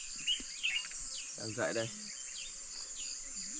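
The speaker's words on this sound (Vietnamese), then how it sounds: "Chim hót líu lo, nghe rất tuyệt vời luôn." Birds sing at dawn in a tribal village, with faint chirps over a steady insect drone, and a person speaks briefly in the middle.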